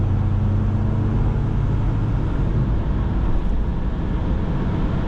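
A 2004 Jeep Grand Cherokee 4.7 V8 H.O. with automatic transmission accelerates hard at full throttle, a loud, steady engine roar heard from inside the cabin, rising gradually and without a pause.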